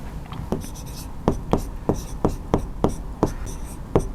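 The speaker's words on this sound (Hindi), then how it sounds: "तो लिखेंगे" A pen or chalk writes out math steps for a geometry lesson on right triangles, making a run of sharp, evenly spaced scratchy strokes close by, with quiet breathy voice sounds between them.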